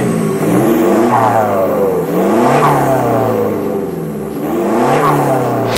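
A Toyota Fortuner engine revs repeatedly through a loud, raspy free-flowing HKS exhaust with a custom 3-inch front pipe and no catalytic converter, rising and falling in pitch in close, throaty bursts.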